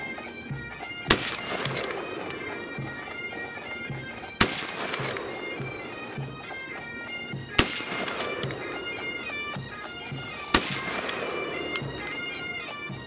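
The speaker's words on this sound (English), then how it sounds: "To fire the rifle, all that needed to be done was push the safety catch forward, cover your target, and squeeze the trigger" A Lee Enfield No 1 Mk III* SMLE rifle fires four sharp, loud shots at roughly three-second intervals, each crack standing out clearly against a steady background of broadband noise.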